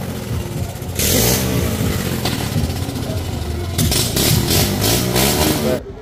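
At a well of death show, a car engine turns over and roars into loud revving with repeated surges, close by, while people talk over the racket.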